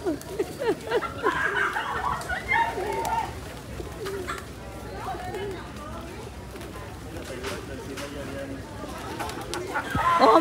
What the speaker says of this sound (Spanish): tienes muchas palomas encima, tienes una docena.